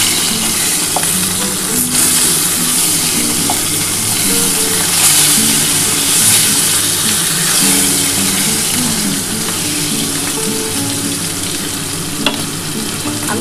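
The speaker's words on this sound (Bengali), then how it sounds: "আমি এবার মাছটাকে ভেজে নিই।" Katla fish frying in hot oil in a pan, a steady dense sizzle that carries on without a break, with small stirring clicks and faint kitchen noise underneath.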